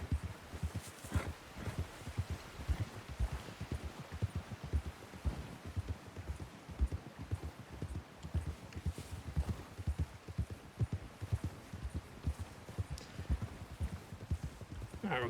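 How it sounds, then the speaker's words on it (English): A horse canters through a snowy whiteout in the RedM game, its hoofbeats thudding in a steady, rolling clip-clop rhythm throughout, loud and close. "We're going to pick it up to a canter up into the whiteout"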